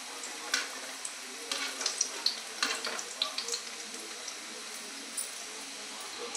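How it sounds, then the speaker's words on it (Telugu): Four egg fritters fry in hot oil in a kadai, giving a soft, steady sizzle dotted with small crackles and a few utensil touches, fairly quiet and close. "ఆయిల్లో ఫ్రై చేయడానికి వేస్తున్నాను"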